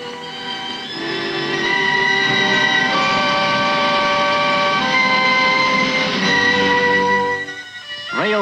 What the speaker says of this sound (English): Railways, specially laid from the pits, carry away the limestone to be made into cement for new factories and roads